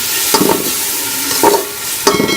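Fried rice seasoned with salt and black pepper is stirred in a hot pan, with a steady close sizzle broken by three scraping strokes of the spatula.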